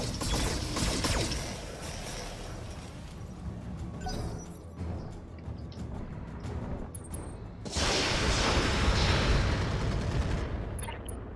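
Mech weapons fire in the Roguetech BattleTech mod, loud overlapping bursts of gunfire with mechanical clatter, dipping to a busy lull partway through and then surging back into a heavy, dense volley near the end.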